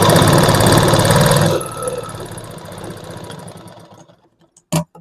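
A sewing machine stitching the armhole piece of a lined blouse, a fast loud whirring run that slows and stops after a second and a half, followed by quieter handling and a short final clack.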